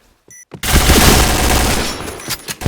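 Sustained burst of automatic gunfire in a Counter-Strike-style shooter match after a bomb plant, loud and dense for about two seconds, preceded by a brief electronic beep and trailing off into scattered single shots.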